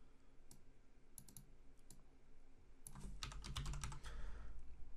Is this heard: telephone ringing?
no